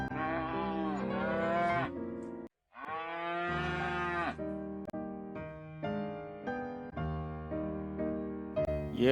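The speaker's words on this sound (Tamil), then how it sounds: "விலங்குகளின் ஒலிகள். பசு" Cows mooing: a series of long, loud, drawn-out moos with shifting pitch, one following another with a short gap between calls, with no talking.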